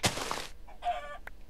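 A chicken in a video game gives a few short clucks and squawks, the loudest burst at the start and a softer call about midway, with no talking.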